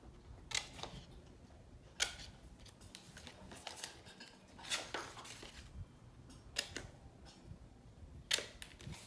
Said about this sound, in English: So now for these pockets, I just cut out the corners just like this.